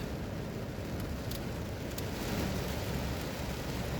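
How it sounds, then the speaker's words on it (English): Steady rain falls without pause, a dense even hiss with faint higher drips, loud and close with no voices. "It's raining."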